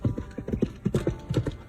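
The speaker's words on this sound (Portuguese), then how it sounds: "Ao longe, ouviu os cascos de cavalos." Several horse hooves clip-clop in a quick, uneven rhythm, fairly close and loud, with a brief whinny-like sound among them and no speech.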